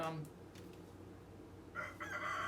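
A rooster crows in the background near the end, a drawn-out bright call rising over low room noise, moderately loud but a little distant, after a brief snatch of voice at the start.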